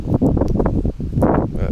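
Wind buffets a microphone outdoors in a vegetable garden, giving loud, close, low rumbling gusts that run through the whole moment, with no clear talk.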